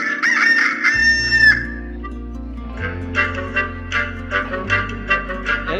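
A person imitates a rooster crowing, a loud, close vocal cock-a-doodle-doo with a rising, drawn-out call, followed by a steady low drone and a series of regular rhythmic pulses.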